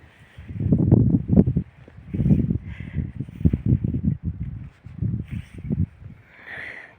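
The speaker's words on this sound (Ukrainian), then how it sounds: "Ви ж чуєте, що вітер." Gusting wind buffets the microphone in uneven low rumbles, swelling and fading in bursts with brief quieter gaps.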